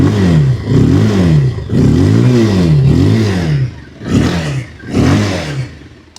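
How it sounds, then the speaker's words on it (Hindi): A Bajaj Pulsar 220F motorcycle idles and is blipped repeatedly, its exhaust rising and falling in several loud, close revving bursts with brief dips between them. "अब इसके एग्जॉस्ट साउंड आप यहाँ पर नोट करो"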